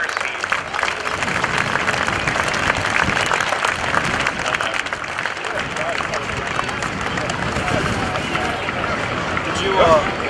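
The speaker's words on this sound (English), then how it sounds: "a big round of applause for one of the most moving ceremonies I've ever seen" Crowd at a US Navy airshow at NAS Oceana applauds after a ceremony: broad, steady clapping spread out across an open outdoor space, with murmuring voices mixed in throughout the ten seconds.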